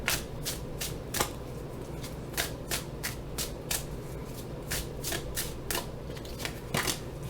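Tarot cards being shuffled in a steady series of crisp riffling bursts, about a dozen quick rasps spaced evenly across the stretch, close and clear over a quiet room with no talking.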